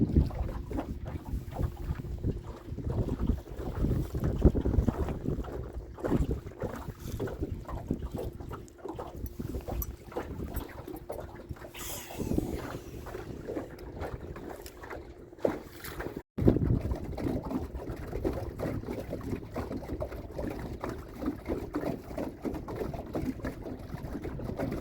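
Cold, gusty wind buffets the microphone on a walleye fishing boat out on open water in early summer, a rumbling roar that swells and eases throughout, with one brief dropout partway through.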